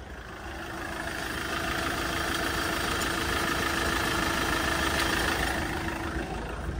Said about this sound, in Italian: adesso mettiamo in moto e vediamo se gira